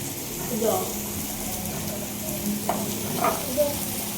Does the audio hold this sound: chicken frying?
yes